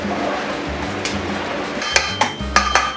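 Spoon stirring rice and tomato mixture in a pot, with a few sharp metallic clinks and scrapes against the pot in the second half over a low background hum.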